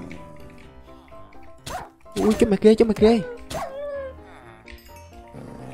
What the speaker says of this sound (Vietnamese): mới vô bị chó dí rồi